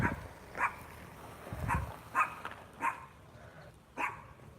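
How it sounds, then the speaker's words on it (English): Dogs bark in Water Simulator, a video game: several short separate barks spaced about a second apart, moderately loud, over a low steady background hum. "The dogs will bark at newcomers."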